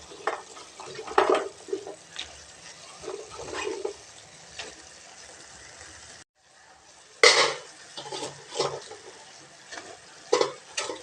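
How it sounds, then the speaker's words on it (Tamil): Vegetables and tomato sautéing in oil for a masala curry, with bursts of stirring and clinking against the pan over a hissing sizzle, briefly cut to silence midway before resuming. "இது நல்லா கிளறி விட்டுக்கலாங்க."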